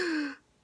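A person imitates a big gasp: a single short, loud, voiced intake that cuts off after about a third of a second into quiet.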